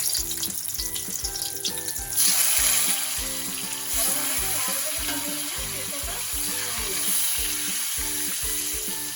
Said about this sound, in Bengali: এবারে আমি করলাগুলো ভেজে নেব।